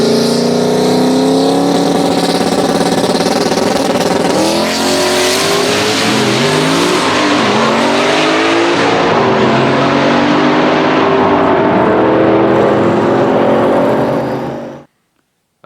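A boosted drag race car launches and accelerates hard down the strip at a modified-car nationals event, its engine revving loud and climbing through gear changes for about fifteen seconds before cutting off abruptly.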